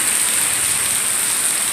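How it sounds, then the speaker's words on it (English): Heavy rain from Hurricane Isaias in 2020 pours down outdoors as a dense, steady roar, loud and close, with no voices over it. "It's raining like crazy out there."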